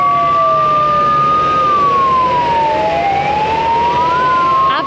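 A fire brigade engine's siren wails loud and close at a slum fire in Sector-44, Gurugram, its tone sweeping up and down continuously over road traffic rumble.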